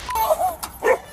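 A dog barks and yelps at police officers during an arrest, several sharp, close, loud barks in quick succession.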